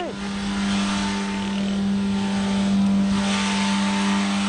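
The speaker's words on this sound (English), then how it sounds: "This clip, a runaway diesel engine." A runaway diesel engine revs hard and steadily, a loud sustained drone with a strong low hum that holds throughout, rising slightly near the end with no pause.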